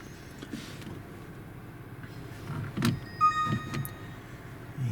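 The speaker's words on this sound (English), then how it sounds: "We'll turn the car on" A car switched on from inside the cabin: a short mechanical clunk, then a few electronic chime tones ring over a low, steady interior hum, all close and moderately quiet.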